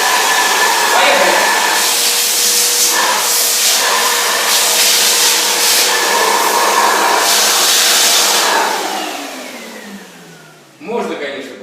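A Cleanfix S 10 vacuum cleaner runs with its nozzle attached, a loud, close, steady high-pitched whine and rush of airflow that holds for several seconds and then winds down as the motor shuts off.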